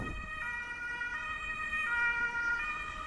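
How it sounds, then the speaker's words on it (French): An ambulance siren wails in a repeating two-tone pattern, steady and fairly close, as it passes by a lakeside in Hanover, with rumbling wind noise underneath. "l'ambulance."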